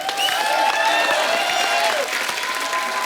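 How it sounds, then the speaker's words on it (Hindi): A studio audience at a comedy show breaks into loud, sustained applause, dense clapping that fills the room and tapers slightly toward the end. "पर शानुदा और समीर साहब के लिए जोरदार तालियां।"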